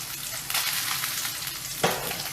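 Salmon fillets sizzle in a frying pan, with a steady broad crackle throughout and a sharper burst near the end, as if a piece is moved or flipped.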